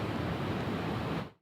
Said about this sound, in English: Extremely strong wind gusts picking up by the hour, whipping winds creating large waves right next to these homes on Cozy Beach